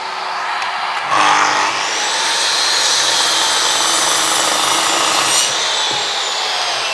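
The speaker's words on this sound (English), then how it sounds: "I was cutting bits and pieces out" Timber pieces being cut for a stair gate frame give a loud continuous rasping cut that runs for several seconds with a brief harsher burst near the start.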